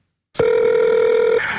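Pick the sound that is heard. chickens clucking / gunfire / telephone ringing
telephone ringing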